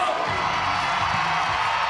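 At an Auburn gymnastics meet, a home crowd gives a sustained ovation for gymnast Sophia Groth, a steady broadband roar of cheering that stays level throughout while a commentator talks over it.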